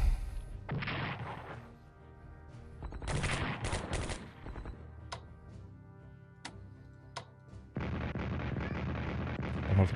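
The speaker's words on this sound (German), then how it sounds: "Nochmal Verteidigung durch Artillerie." Artillery fire in the WW2 strategy game Strategic Command WW2 comes as several loud, separate booming salvos with sharp cracks and short gaps between them, and a sustained barrage near the end.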